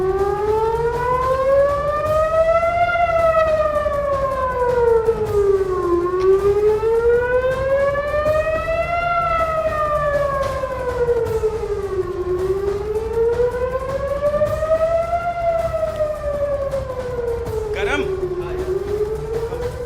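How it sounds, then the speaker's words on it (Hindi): A loud air raid siren in Israel warning of incoming missiles wails continuously, its pitch rising and falling in slow repeating cycles over a steady background rumble. "ये सायरन मिसाइल से पहले बजता है"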